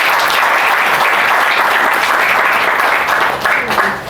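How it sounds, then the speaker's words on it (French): Sustained applause from wedding guests at a civil marriage ceremony in a town hall, dense steady clapping holding for about four seconds before tapering slightly at the end. "Veuillez applaudir."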